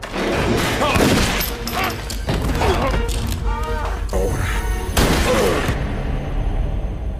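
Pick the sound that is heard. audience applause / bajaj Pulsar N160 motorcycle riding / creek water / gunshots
gunshots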